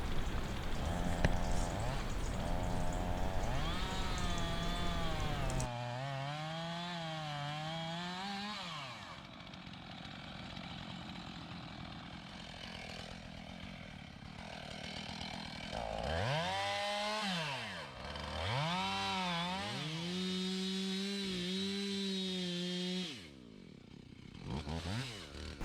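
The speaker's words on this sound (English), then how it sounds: "These trees are a great opportunity for the lad to learn how to use the chainsaw" A chainsaw cutting trees revs and bogs repeatedly, its engine pitch rising and falling as it cuts, with rough idling between cuts.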